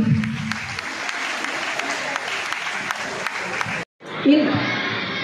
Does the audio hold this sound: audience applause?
yes